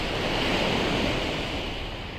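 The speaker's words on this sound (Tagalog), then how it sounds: "malalakas pa yung alon" Strong sea waves crash onto a beach shore in a steady, loud, close roar of surf, with wind buffeting throughout and no voices.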